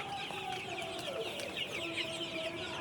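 Chickens on a village poultry farm in Bangladesh holding about a thousand birds cluck and chatter in overlapping bursts, a busy moderate-level flock sound with no talking.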